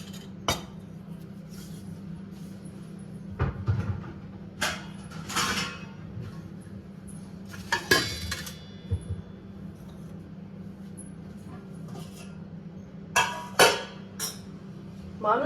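Utensils clinking and scraping against dishes as food is served in a home kitchen, with intermittent metallic taps and clatter over a low steady background hum.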